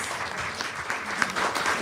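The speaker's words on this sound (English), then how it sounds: "Give them a good round of applause." Audience applause for a panel of speakers at a youth climate event, a dense, steady wash of clapping through the whole short stretch with one sharper clap standing out near the end.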